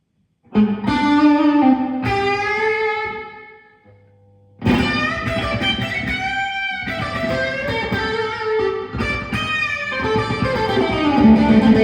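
Electric guitar runs through a Carl Martin Headroom Mini reverb pedal set to a short room reverb. Loud sustained chords ring out, a brief decaying tail and near-silent pause falls midway, then strumming resumes with a longer reverb tail.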